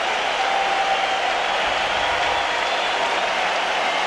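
Baseball crowd at a 1996 Braves vs Expos game applauding and cheering steadily after a final strikeout, a dense wash of distant clapping and roar with no break throughout.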